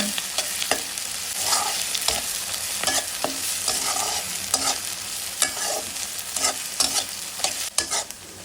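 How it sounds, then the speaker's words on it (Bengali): Onions and chillies frying lightly in oil in a pan for a green banana mash, a steady broadband sizzle with repeated scraping stirs of a spatula at an irregular rhythm, close and fairly loud, with no voices. "পেঁয়াজ মরিচটা হালকা ভেজে নেওয়া হয়ে গেছে"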